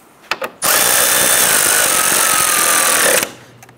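A cordless power drill runs in one steady burst of about two and a half seconds, snugging down fasteners that hold plastic trim on the AC condenser of a 2011-2019 Ford Explorer, loud and close with a couple of short clicks before it.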